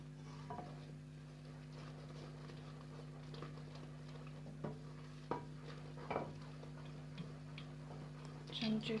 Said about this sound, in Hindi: चमचे को हिलाते रहना है,